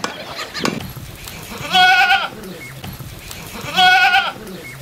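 Goats in a village pen bleat twice in long, wavering calls a couple of seconds apart, loud and close, with softer shuffling and background noise between them.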